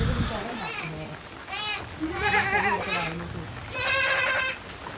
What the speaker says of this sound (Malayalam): പല രീതിയിലുള്ള ആടുകളുടെ ഒരു കൂട്ടം തന്നെയുണ്ട്